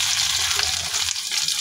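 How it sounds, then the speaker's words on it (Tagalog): Chopped garlic and onion sauté in hot oil for a Batangas-style menudo, giving a dense, even sizzle that stays loud and close throughout with no voices. "magsasangkutsa na tayo ng bawang. Siyempre, sabay na natin din ng sibuyas"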